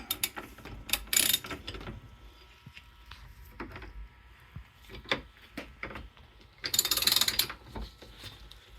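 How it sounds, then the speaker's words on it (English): A torque wrench tightens a part on a Yamaha outboard trim unit, the ratchet clicking in short bursts with sharper metallic clacks and a couple of louder clattering spells, close and without speech. "Torque it into place here with our OST0022."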